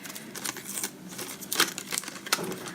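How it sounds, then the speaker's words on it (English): Washi tape peeled carefully off a die-cut paper piece on a wobbly craft table, heard as soft crinkly rips and paper rustles in short bursts, close and fairly quiet, with no talking. "Just peel off that washi tape really carefully."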